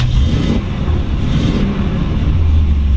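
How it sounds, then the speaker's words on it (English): A 1955 Chevrolet Nomad resto-mod's engine turns over and catches, settling into a loud, steady, rumbling idle close by with no voices. "We're going to go ahead and fire it up."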